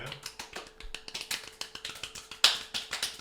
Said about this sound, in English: Yeah, it's how you clap. Speed clap.